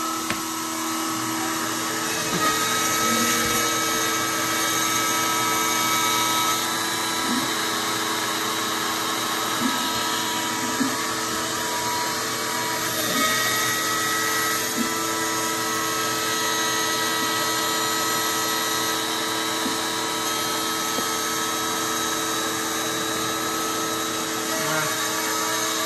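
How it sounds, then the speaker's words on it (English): A vacuum cleaner runs continuously, cleaning up after carving on an Inventables X-Carve CNC machine: a loud, steady whining drone with a faint periodic ticking underneath and no talking. "I'm going to vacuum a little bit."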